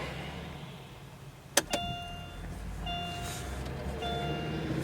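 A car left two days in frost starts with a sharp click and a short starter burst, then settles into a low, steady idle with faint whining tones, heard close inside.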